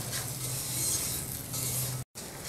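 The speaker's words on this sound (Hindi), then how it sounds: "और ये तमाम ड्राई फ्रूट्स डाल दें, क्योंकि ये भी साथ ही भुन जाए ना।" Dry fruits roast with semolina in a pan, giving a soft continuous scraping and faint sizzle as they are stirred, with a brief break in the sound near the end.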